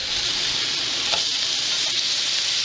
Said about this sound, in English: Alright, one more buck burger to flip here.